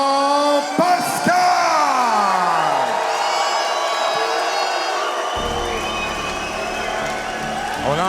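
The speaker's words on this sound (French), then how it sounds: "On entend beaucoup d'applaudissements." At a boxing event, Jean Pascal vs Terry Osias, the arena crowd roars throughout with clapping, loud yells and drawn-out boos, and the din stays dense and steady.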